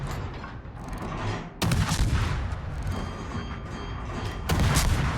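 Heavy ship gunfire in World of Warships during a battle against battleships, with booming salvos landing over a constant roar of combat. Two strong blasts stand out, one early and one near the end.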